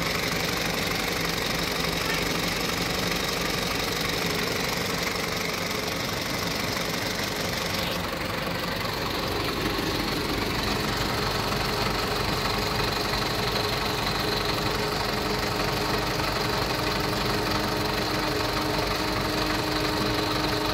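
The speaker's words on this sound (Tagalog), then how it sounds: "Pinandar ko ulit yan." An Isuzu 4HK1 diesel engine running steadily after being restarted, a continuous close, loud idle with a knocking mechanical clatter, slight change in tone partway through, and no talk over it.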